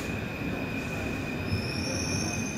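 A Paris metro train rolls into a station with a steady, loud metallic wheel squeal, a high whine over continuous rumbling rail noise.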